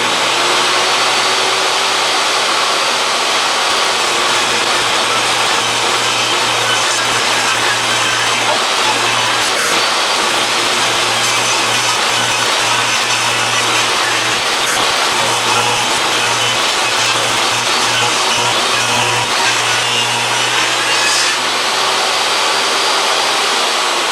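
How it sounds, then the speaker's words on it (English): A table saw rips 2x4 lumber for the frame of a truck bed camper, a loud, continuous high whine with a steady motor hum that runs on and on as boards feed through. "We're going to start ripping 2x4s down and building this thing."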